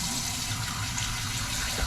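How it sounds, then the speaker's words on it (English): Steady rushing stream of tap water running over shrimp being rinsed, close and continuous without a break, with no voices. "You rinse them after that, just to make sure that it's all out."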